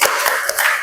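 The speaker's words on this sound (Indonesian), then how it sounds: "kita berikan tepuk salut" A classroom of students claps together in a short burst of applause, with sharp, dense hand claps that sound close and fairly loud, during a primary school science lesson.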